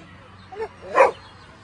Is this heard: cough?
no